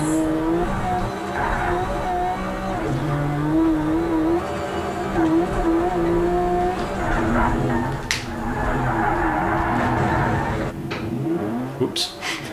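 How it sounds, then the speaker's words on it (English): A car in the racing game Project Cars 3 slides into a long drift and skids to a stop, its engine droning with tire squeal rising near the end, loud and continuous. "A long drift to a complete stop."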